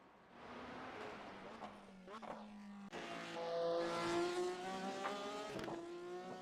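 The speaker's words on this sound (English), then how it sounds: "ooh, that Porsche sounds pretty good, actually" A Porsche race car engine in a sim racing game revs up through climbing, whining harmonic tones, rising and falling across several gear changes with short breaks between pulls.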